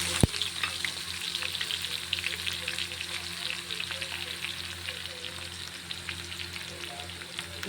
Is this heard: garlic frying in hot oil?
yes